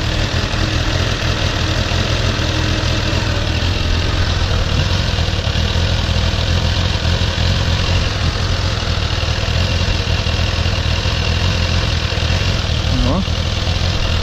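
A Suzuki Bandit 600 motorcycle with four carburetors idles throughout carburetor synchronization, a loud, continuous, even engine drone held close and without a break.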